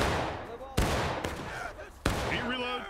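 Musket volleys crack out in the Civil War battle game War of Rights, two loud broadband bursts of massed gunfire with rolling echoes, while shouted commands and voices carry on between the shots.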